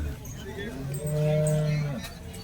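A Holstein Friesian cow lets out one long, loud, close moo at a busy cattle market, with a low crowd murmur underneath.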